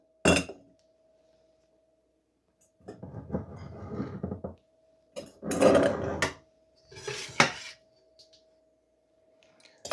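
Glass jars being filled with chutney: several separate bursts of clinks, scraping and wet spooning against glass, separated by quiet gaps, close and moderately loud.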